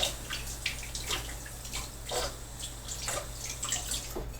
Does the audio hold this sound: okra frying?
no